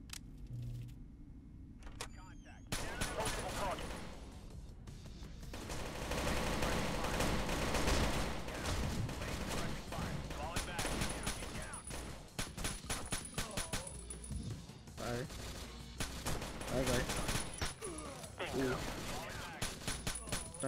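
Sustained gunfire from Tom Clancy's Rainbow Six: Shadow Vanguard, with loud bursts of rapid shots and scattered single cracks over a busy game soundscape. It is quieter at the start, then builds into steady shooting that continues to the end.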